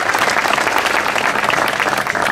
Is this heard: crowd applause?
yes